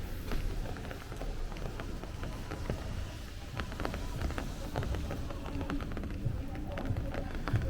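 Steady rain falls on Bay Ridge streets in Brooklyn during a windless thunderstorm, a dense continuous patter with scattered sharper drops splashing nearby throughout.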